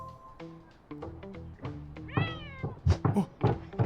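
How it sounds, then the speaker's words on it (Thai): Several cat meows in a video game, some drawn out, rising over quiet background clicks and thumps; no one speaks. "อ๋อแมว"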